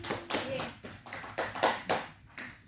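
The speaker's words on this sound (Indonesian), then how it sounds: "Silahkan beri tepuk tangan untuk kelompok 1." Scattered applause from students in a classroom after a group presentation, a few hands clapping unevenly in short bursts, fairly quiet and close, with light chatter mixed in.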